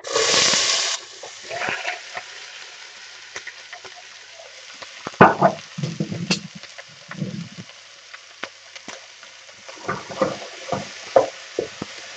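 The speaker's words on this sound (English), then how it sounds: "we're just going to throw in our ingredients, so chopped mixed vegetables, and give them a stir" Chopped mixed vegetables hit a hot pan with a brief loud burst of sizzle, then settle into a quieter fry broken by scattered clatters and scraping as they are stirred, with no talk.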